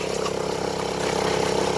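A small 1,000-watt Honda portable generator idles in eco mode while running two Milwaukee six-bay battery chargers, giving a steady close mechanical drone with an even pulsing beat and no talk.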